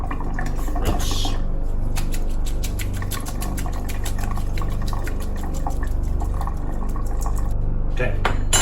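Tap water runs steadily over canned asparagus spears in a kitchen, a continuous near splash with faint clinks of dishes through it.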